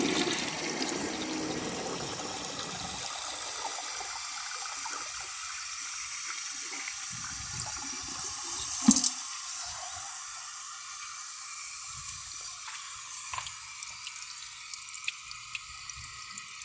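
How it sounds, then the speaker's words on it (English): A toilet is flushed a second time while the handle is held down: a loud rushing gush that settles into a steady run of water draining and refilling, close up and with no talking. "so I'm going to flush it and see if it comes out with a second flush"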